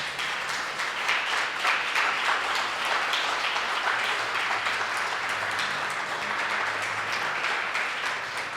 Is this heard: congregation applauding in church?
yes